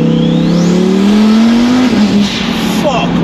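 A twin-turbo Lamborghini Huracan Performante rated at 1438 bhp accelerating hard from inside the cabin, a loud rising engine drone that climbs steadily then eases off, with talk over it.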